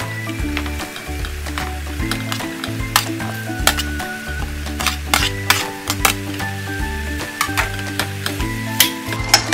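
Cabbage stir-fried for pancit canton in a home kitchen pan, a loud steady sizzle with repeated scraping and clinking of the spatula stirring throughout.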